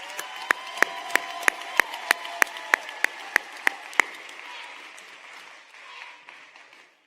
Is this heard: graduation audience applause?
yes